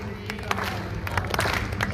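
An audience claps in rhythm to a devotional song about Radha, the claps sharp and regular under loud singing voices.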